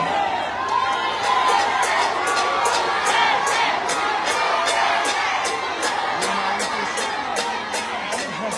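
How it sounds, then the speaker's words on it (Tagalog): Large crowd at a political rally in Manila chanting Duterte, a dense continuous roar of shouting voices with rhythmic repeated bursts throughout. "Ang sigaw ng mga tao ay Duterte."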